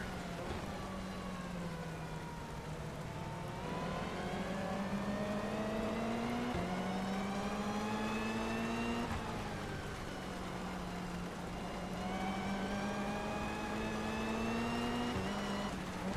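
Racing-game car engine at the Tsukuba circuit, its revs repeatedly sweeping up under acceleration, then dropping sharply as it brakes for hairpin turns. A steady, loud, continuous drone with rising pitch climbs and sudden falls, and no voices.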